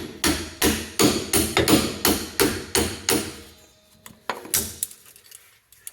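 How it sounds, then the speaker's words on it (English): Hammer striking an axle shaft into the transmission of a 1991 Honda Acty mini truck, about a dozen sharp metallic blows in a quick steady rhythm, then a pause and a few lighter taps, close and loud. "If we hammer on this shaft, does it get the thing in the thing?"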